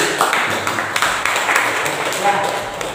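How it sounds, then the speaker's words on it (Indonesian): Applause from a small audience after a classroom presentation during a teaching performance assessment, a steady wash of scattered claps running throughout, fairly close and even in loudness. "Tepuk tangan."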